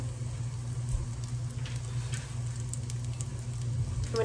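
Mushrooms cook in a hot pan with a steady, soft sizzle and crackle, joined by a constant low hum, with faint ticks scattered through.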